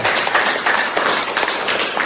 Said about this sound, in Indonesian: berikan tepuk tangan buat teman kalian